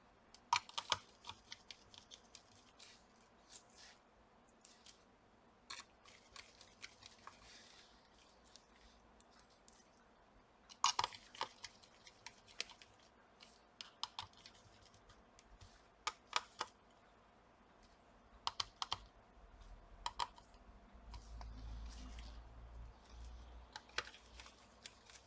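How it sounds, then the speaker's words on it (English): Small screws being driven back into a Dynabook Satellite Pro C50-H laptop's CPU cooler during a thermal paste replacement, heard as faint, scattered close clicks and light scraping taps with no talking. "and just put the screws back."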